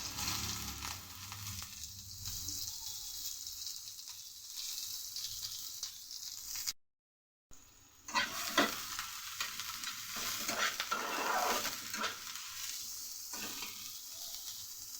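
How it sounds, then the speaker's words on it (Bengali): Chopped onion hits hot oil in a pan and fries with a loud, continuous sizzle, stirred with scraping strokes, with a brief dropout to silence midway before the frying resumes. "গরম হয়ে গেছে, তেলের মধ্যে দিয়ে দেব কুচিয়ে রাখা পেঁয়াজ"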